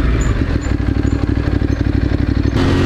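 A Honda CG motorcycle engine revs hard on the throttle, loud and close, with a rough, clattering pulse that runs steadily before a brief change near the end.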